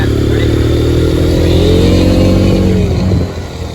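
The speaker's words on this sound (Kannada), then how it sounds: "ಗೈಸ್ ನೋಡಿ, ಹೊಸ ಎಕ್ಸ್ಪಲ್ಸ್ ಅಡ್ವೆಂಚರ್ ಹೇಗಿದೆ." A new Hero Xpulse 210cc adventure motorcycle revs hard close by, its engine note rising and holding loud before dropping off near the end, with no talking over it.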